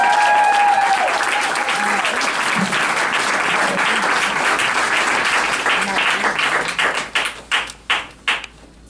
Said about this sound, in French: applaudissez notre premier duo de la soirée